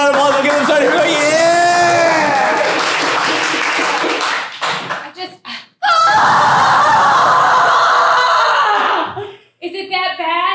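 A comedy sketch audience laughs and snickers, then breaks into a loud, dense burst of cheering and applause that cuts off and briefly resumes.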